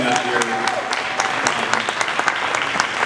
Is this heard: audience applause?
yes